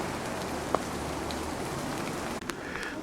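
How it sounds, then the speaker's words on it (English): Rain falls at Machu Picchu near the visitor center, a soft, even hiss with a few faint nearby drips and knocks over its short length. "Okay, since it's raining"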